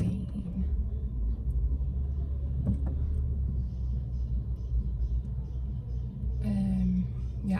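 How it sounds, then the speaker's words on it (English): Busy road traffic rolls past as low, continuous rumbling of cars with occasional engine swells, heard from nearby under a faint voice talking. "the traffic is insane"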